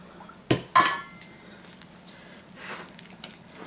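Caramelized sugar is mixed into thick plum cake batter in a bowl: two sharp clinks of a utensil against the dish, then soft squishy stirring and a few lighter taps.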